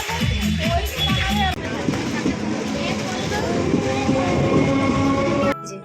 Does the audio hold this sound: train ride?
yes